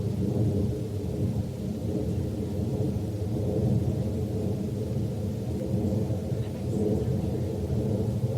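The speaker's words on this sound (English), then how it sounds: "this is our high altitude jet clip," A steady, low broadband roar rumbles on without pause, like a distant jet high overhead at night, with no voices and no distinct events.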